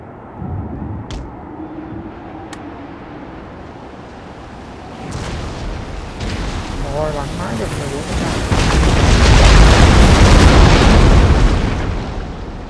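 Direct-fire cannon artillery pounding city walls during a siege battle in Napoleon Total War, a few sharp booms early, then rumbling blasts and crashing debris building to a loud sustained roar.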